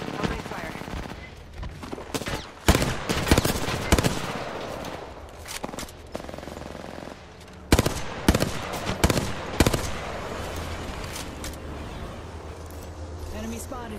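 Apex Legends gunfire: several sharp bursts of automatic fire and single shots, loud and close, separated by short gaps, with game voice lines and player talk mixed in.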